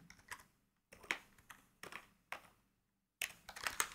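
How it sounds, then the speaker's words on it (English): Quick bursts of typing on a computer keyboard while coding a Godot game, with clustered key clicks separated by short pauses, close and fairly quiet, with no voices. "I'm failing at typing."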